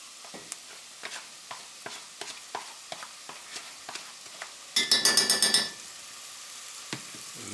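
Pumpkin sautéing in a pot with onions and spices, stirred with a series of soft regular scrapes and a gentle sizzle, then a short bright clattering burst near the end; no talking.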